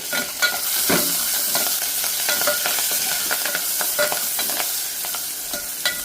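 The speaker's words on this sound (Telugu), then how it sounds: "నేను ఇంగువ వేస్తున్నాను" Asafoetida sizzles in hot oil as a tempering before yellow lentils go in, a loud crackling fry broken by sharp repeated scrapes and taps of a spoon stirring the pan, with no voices.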